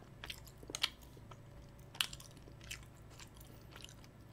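Rosé tteokbokki being chewed up close, soft squishy bites with a few sharper crunchy clicks at an uneven pace, quiet and alone.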